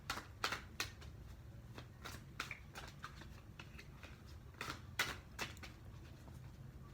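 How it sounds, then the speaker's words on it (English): Tarot cards are shuffled close by, a quiet run of soft riffling taps and flicks in uneven bursts against low room noise. "So let me go ahead and shuffle."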